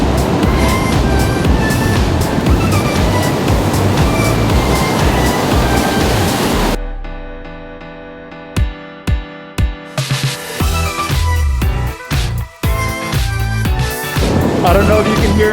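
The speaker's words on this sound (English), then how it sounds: "these falls are pretty loud, but the further you get away the better, but you're still hearing that relaxing sound of the water crashing" Manavgat Falls roaring with a loud, dense wash of crashing water, then cutting to a quieter stretch broken by sharp knocks and bumps before the roar returns.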